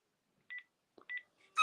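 Dual-tone dialing beeps sound on a Panasonic phone system as line 1 is rung, two short paired tones, then a click and another pair, ending in a louder burst.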